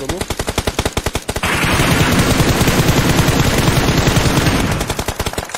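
Loud, close automatic gunfire in a multiplayer shooter video game: rapid rhythmic bursts at the start and end, with a dense continuous roar of shots through the middle.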